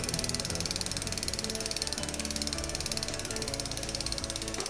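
A bicycle gear mechanism clicks rapidly and evenly as it is tightened during gear adjustment, a close, steady ratchet chatter lasting the whole stretch.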